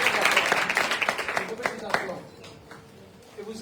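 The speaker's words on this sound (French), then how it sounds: "Applaudissons pour tous ceux qui ont" A youth ministry gathering breaks into applause, a close, lively burst of many hands clapping that fades to a few scattered claps, with voices murmuring underneath.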